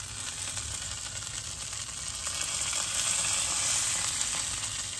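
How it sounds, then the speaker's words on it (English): Bacon wrapped around Texas Twinkies sizzles steadily as it cooks, a continuous close, moderately loud crackling hiss with no talking. "The bacon's starting to crisp up a little bit."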